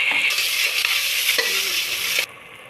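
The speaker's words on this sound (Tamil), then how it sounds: "The onion is fried well now. I am adding ginger garlic paste" Ginger garlic paste sizzles and spits in a pan with already fried onions, a loud, steady hiss with a few stirring scrapes that cuts off sharply near the end, leaving a quiet background.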